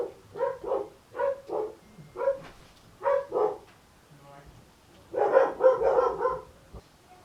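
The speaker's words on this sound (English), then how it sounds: "They just start barking." Dogs bark close by in rapid repeated pairs, then a louder burst of overlapping barks follows near the end, with indoor background noise around them.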